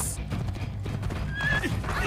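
A horse in Assassin's Creed 2 whinnies and its hooves clip-clop in a steady galloping rhythm, close and fairly loud, with game ambience and some faint voice underneath.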